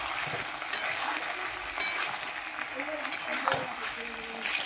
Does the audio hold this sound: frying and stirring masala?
yes